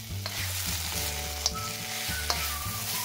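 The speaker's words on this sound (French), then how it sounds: "Je vais maintenant rajouter le reste des légumes, c'est-à-dire l'oignon et le poivron que j'avais découpé" Onion and pepper strips sizzle in a frying pan for a Ivorian choukouya dish, a steady close crackle with a few soft stirring clicks and no voices.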